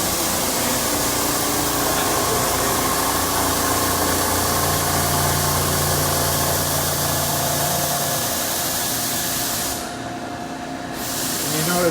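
A large crankshaft machine runs inside the SCAT VW factory with a loud, steady mechanical drone and low rumble that briefly dips near the end before resuming, close and continuous, with no talk over it.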